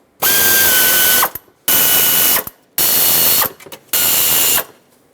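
Ratchet cranking intake manifold bolts snug on a 5.4L V8 Ford E-350 van, in four loud, close bursts of rapid clicking, each about a second long and separated by brief pauses.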